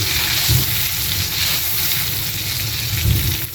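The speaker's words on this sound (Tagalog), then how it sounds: "Okay, melt lang natin tong butter." Butter melting with a little cooking oil in a pan for garlic butter shrimp, giving a steady close sizzle with soft bubbling and a couple of slightly louder pops, heard alone without talk.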